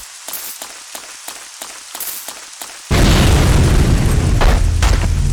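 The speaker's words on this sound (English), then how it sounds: "that explosion would vibrate the controller" A loud explosion from Resident Evil Code: Veronica X erupts suddenly after a stretch of rhythmic, patterned game noise, then settles into a sustained, heavy roaring rumble that lasts until the end.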